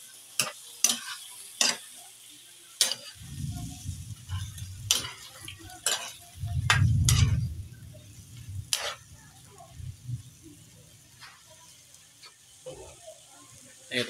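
Chicken necks being stirred with vinegar in a pot, a spoon scraping and clinking in bursts over a low bubbling sizzle, close and moderately loud, with a few sharp metallic taps.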